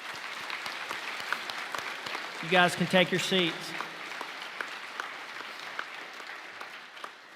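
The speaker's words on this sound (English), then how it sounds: "Big round of applause." An audience at a school ROTC awards ceremony claps in a brief burst of applause between stretches of amplified talk, with scattered claps before and after.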